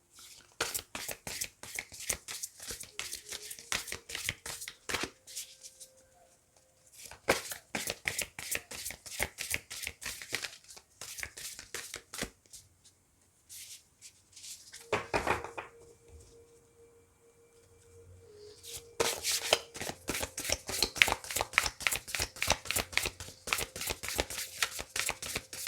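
An oversized deck of tarot-style cards shuffled by hand in bursts of crisp riffling and flicking, separated by short quiet pauses, close and fairly loud.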